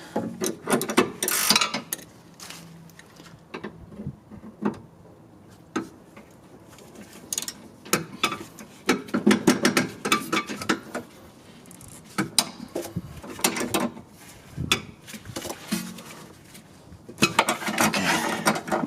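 Ratchet loosening the 14mm nut on a 2012-2016 Honda CR-V front sway bar end link, a long run of close, rapid mechanical clicking in bursts with metallic clatter, no talking.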